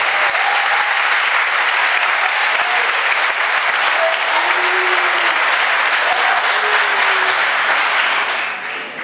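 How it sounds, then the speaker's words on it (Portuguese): Church congregation applauding loudly during a sermon, a continuous roar of clapping and crowd noise that holds for several seconds before easing at the end. "Então dê um forte aplauso ao Messias."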